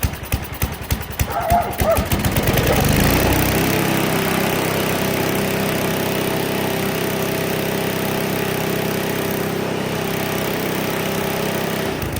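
Snow blower engine under repair revving up at full throttle, a loud sputtering start that settles into a steady, droning run, close by and alone.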